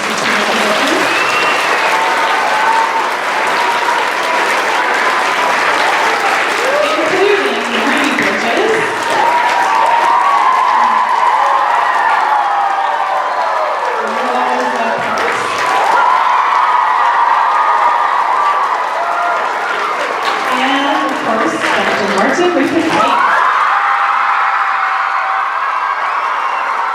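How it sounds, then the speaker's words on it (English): An audience at a school assembly for Martin Luther King Jr Day gives sustained, loud applause, with scattered cheers and whoops over the dense clapping throughout. "let's give a clap for the many role models that have come to support"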